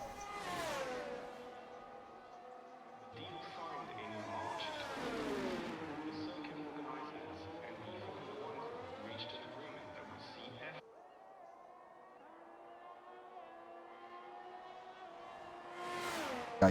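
Race car engines whine in a sim race at the Canada round, pitch rising and falling as the cars accelerate and brake, with a commentator talking over them for most of the stretch.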